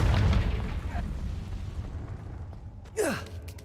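Confringo, a fire spell in Hogwarts Legacy, sets off a single bright whooshing burst near the end, after a low rumble fades.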